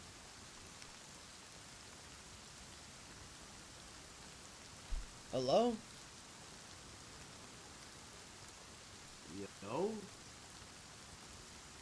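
Steady rain falls in the survival video game Rust, a loud continuous wash of noise throughout, with two brief spoken calls rising above it.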